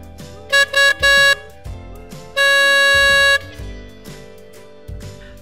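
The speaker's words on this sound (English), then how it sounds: "the mopeds began to beep." Storybook sound effect of moped horns: several short, bright beeps in quick succession, then one long sustained honk, loud and close, with a faint musical background underneath.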